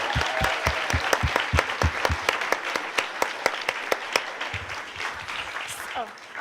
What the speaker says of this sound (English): I want a round of applause to thank every designer in this room.